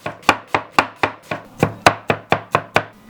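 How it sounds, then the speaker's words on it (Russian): A heavy knife chops herbs rhythmically on a board, about twelve crisp, evenly spaced strikes, close and loud with nothing else heard. "И вот так еще тяжелым ножом немножко порубить."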